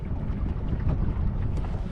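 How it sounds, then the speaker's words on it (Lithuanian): Wind rising over a lake during perch fishing from a boat, a steady low buffeting rush close to the microphone with choppy gusts throughout. "Vėjas kyla, gal truputį įsijudins tą žuvis irgi."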